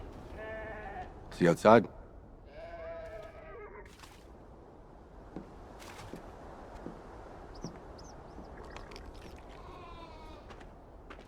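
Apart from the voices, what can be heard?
sheep bleating in video game Beyond Two Souls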